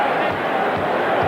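Dense, steady roar of a basketball arena crowd in an NBA Finals game at Chicago Stadium between the Bulls and Blazers, the fans clamoring for a traveling call in overtime, loud and continuous throughout.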